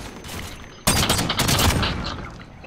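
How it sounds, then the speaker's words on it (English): In the Call of Duty Modern Warfare Warzone video game, a loud sustained burst of rapid gunfire hits a wall, beginning abruptly after a brief quiet moment and rattling on close up. "Why are you shooting the wall, bro?"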